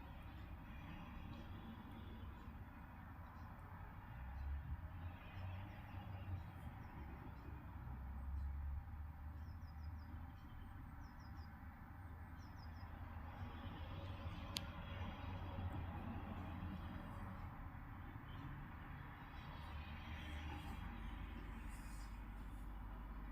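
London Underground train at Green Park station, a steady low rumble and rolling roar that holds throughout at moderate level, with faint squeals and background station noise.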